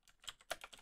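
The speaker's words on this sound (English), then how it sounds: "start typing in your text" Keys clatter on a computer keyboard as text is entered into a Canva design, a quiet close burst of several uneven taps with one sharper strike midway, no voices.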